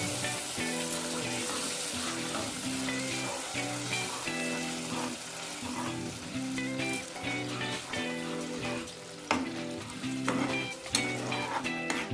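Spice paste frying in a pan for a Bengali mushroom dish, a constant close sizzle and bubbling with occasional stirring clatter, under quiet background music and no talk.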